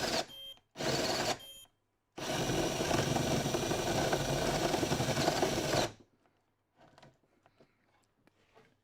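A CNC machine cutting plywood for a tongue drum, a loud, close whirring buzz in two short bursts, then a long steady run that stops abruptly, followed by faint clicks and taps.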